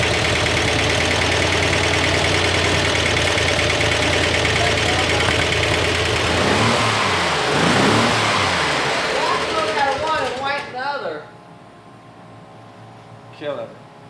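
An off-road vehicle engine with 60-year-old lifters runs hard at wide-open throttle, a loud, steady roar with a ticking, knocking undertone that winds down and cuts off near the end, with talk over it.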